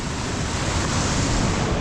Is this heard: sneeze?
no